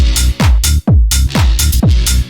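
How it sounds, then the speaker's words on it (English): Loud looping tech house groove with thudding kicks and a sharp, bright electronic clap snapping on the off-beats, no talking. "you can hear if we play the clap on its own"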